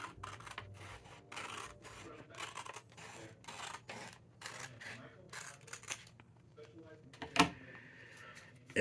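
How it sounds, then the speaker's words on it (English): Scissors snip wrapping paper around a snowman shape in a quick run of short rustling cuts, close and fairly quiet, with a sharp click near the end. "all I'm trying to do is get a straight cut around the snowman"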